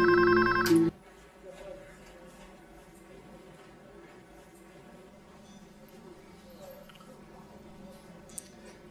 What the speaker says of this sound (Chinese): 这个时候谁会打电话到这儿来呢？